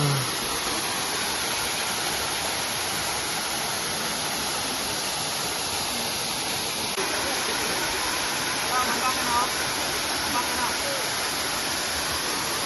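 Steady, full roar of a waterfall on Siquijor island in the Philippines fills the whole stretch, a dense rushing wash with no pauses, close and loud.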